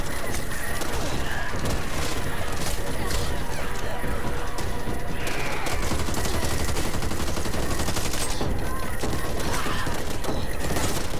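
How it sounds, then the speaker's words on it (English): Sustained, dense gunfire from the video game Back 4 Blood, with rapid automatic bursts and mechanical clatter running without pause throughout, loud and close, with game voices shouting over the shooting. "Target check your fire! Watch where you're shooting!"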